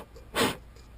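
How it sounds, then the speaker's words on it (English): A single short, soft puff of breath blown over broken motorcycle mirror fragments on a Honda ST1100, close and quiet, with brief faint breathy sounds around it. "I'm just going to blow on it"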